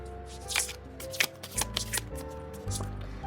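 Tarot cards are shuffled and drawn at close range, with several crisp riffling bursts and light flicks separated by short pauses, under a quiet low background hum.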